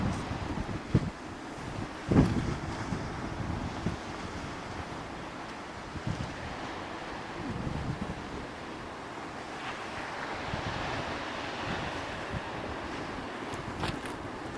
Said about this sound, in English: We're back at the beach.